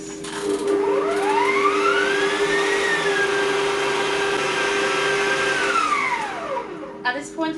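Electric mixer creaming strawberry cake batter in a bowl, a loud steady whirring motor that rises in pitch, holds for several seconds, then winds down and stops, heard close with no talk.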